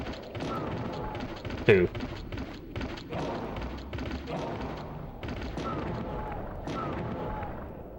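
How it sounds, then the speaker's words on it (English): Magnum fired in Countdown Vampires, set in a vampire-infested casino: one heavy booming shot stands out amid game noise and rumbling impacts, with someone talking over it. "Let's see how many magnum rounds it takes for this homie right here."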